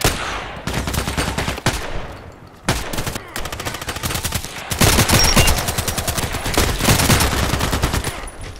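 Gunfire from a KelTec RFB rifle in the video game Contract Wars rings out as a run of sharp, loud shots in clusters, some spaced, some quick, with ringing tails and battle noise between them.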